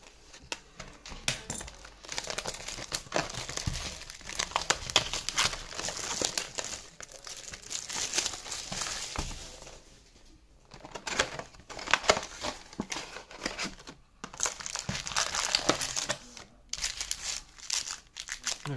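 Yu-Gi-Oh trading card booster packs from Legendary Duelist Rage of Ra are torn open and handled, giving continuous close crinkling and crackling of foil wrappers with sharper tearing bursts and brief lulls throughout.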